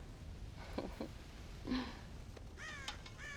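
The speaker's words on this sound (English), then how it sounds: "God damn crows!" Crows caw several times in Red Dead Redemption, scattered harsh calls at a moderate distance over a steady outdoor ambient hiss on a ranch, growing into a cluster of calls near the end.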